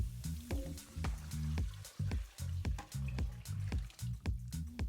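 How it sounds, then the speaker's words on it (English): Water added to a pot of sweating garlic and vegetables for vegan pho, a close series of sputtering, dripping splashes in an irregular rhythm without talk. "I'm going to add in a bunch of water"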